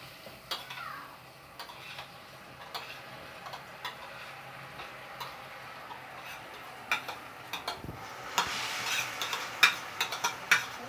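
Rice poured onto vermicelli frying in a pan makes a faint, continuous sizzle with light ticking clicks. Near the end comes a louder flurry of grains rattling and pattering against the pan.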